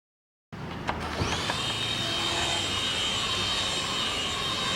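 A homemade helicopter-style drone airplane motor spins up abruptly after a moment of silence, then holds a loud, steady, high-pitched whine close by.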